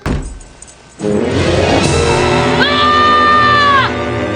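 A boy screams in fright at a creepy clown doll, a loud sustained shriek that rises after a quiet opening and holds steady for several seconds amid a noisy background.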